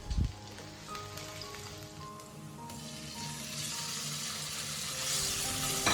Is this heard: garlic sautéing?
yes